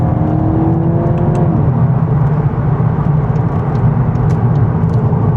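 A 2026 VW Golf 8.5 GTI engine roars loudly and continuously under hard acceleration, heard from inside the car, a deep sustained drone with a brief rising whine early on.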